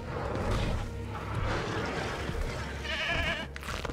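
Goat bleating amid game ambience as an Allosaurus attacks it in Jurassic World Evolution 2, a steady, mid-distance bleat and animal noise with a brief higher burst near the end, no speech.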